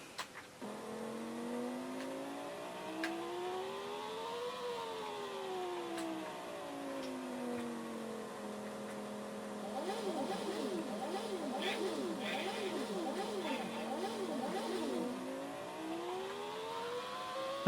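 A car engine in a Psygnosis racing game on the Commodore Amiga revs and accelerates, pitch climbing, dipping and sweeping repeatedly as gears shift, loud and continuous with a burst of overlapping whines in the middle.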